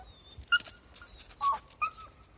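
Faint, high-pitched whimpers and squeaky yips come in a few short bursts over a quiet background, as a dog tries to play with a reluctant puppy.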